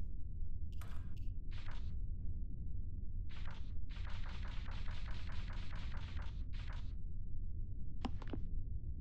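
Chain gun fire in the mech combat game Mech Engineer: rapid, rhythmic bursts of automatic shots, a short burst early and a longer sustained volley in the middle, over a constant low rumble of battle noise.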